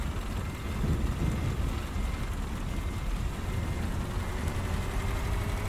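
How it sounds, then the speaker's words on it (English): Thunderstorm with steady heavy rain and low rumbling thunder in Euro Truck Simulator 2, heard from inside a Kamaz 5410 truck with a trailer; a continuous dense wash of rain over a deep rolling rumble, no talk. "Oh, a bit of a storm now."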